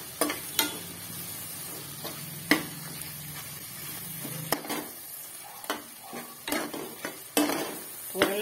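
Ginger garlic paste fries in a pan for tomato biryani, heard as a soft sizzle broken by several sharp scrapes and clinks of a spoon against the pan, with no speech.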